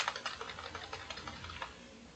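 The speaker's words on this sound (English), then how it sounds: "it is typing in there" Rapid clicking of computer keys while someone works in Adobe Photoshop Lightroom, a steady irregular patter of close, fairly quiet keystrokes with a sharper tap at the very end.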